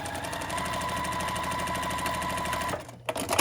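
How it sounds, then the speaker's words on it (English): A sewing machine hums steadily and fairly quietly as it stitches diagonally corner to corner across a square on a quilt block, then stops and a few handling clicks follow. "I'm gonna sew across here to this other corner"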